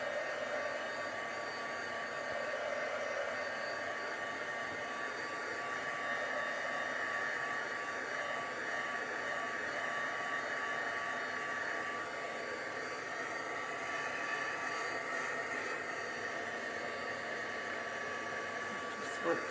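A hair dryer or heat tool blows steadily and close by while it dries a stencilled paper card, a continuous even whoosh that holds for the whole stretch with no break.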